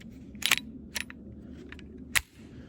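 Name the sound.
Kel-Tec PMR-30 .22 Magnum pistol gunshots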